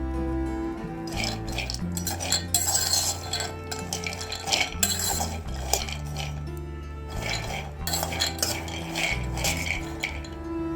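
Peanuts roasting in a dry pan, stirred continuously with a metal spoon, giving a busy rattling scrape and clatter against the pan that runs the whole time without pause, fairly close and with no voices.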